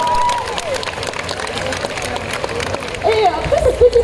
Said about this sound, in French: Et vous pouvez vous applaudir.